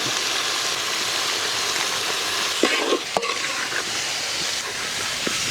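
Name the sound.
ground masala frying with country chicken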